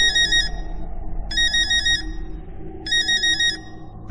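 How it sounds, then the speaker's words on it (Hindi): A phone ringtone plays in three separate bursts of a bright, repeating electronic melody, with quiet pauses between them and a muffled low background. "तभी उस शांति को भंग करते हुए पुष्कर का फोन बजा।"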